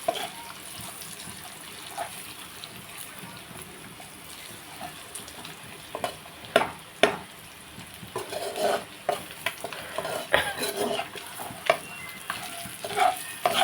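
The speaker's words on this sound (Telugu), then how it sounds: "కొంచెం ఇలా ఫ్రై చేసాక తీసేసుకుంటాం" Eggs frying in a pan, a steady broadband sizzle with intermittent scraping and stirring clicks that grow busier toward the end, fairly close with no talking.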